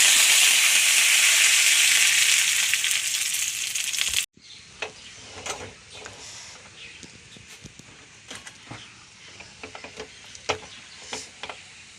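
Dried red chillies and curry leaves hit hot oil for a sambar tempering with a loud, steady sizzle for about four seconds, then settle into quieter scattered crackles and pops.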